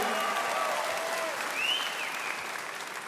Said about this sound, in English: So clap, Cape Bretoners.